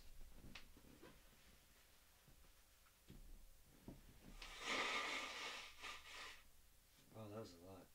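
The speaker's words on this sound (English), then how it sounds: "I gotta blow my nose." A person blows their nose during a podcast recording, a loud, close, breathy honk lasting about two seconds, set among quieter handling noises with a brief voice near the end.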